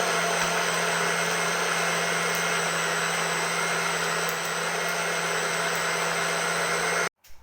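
Second whiz of a bullet blender pulverizing coconut for coconut milk, a loud continuous motor whine holding steady for several seconds before stopping abruptly.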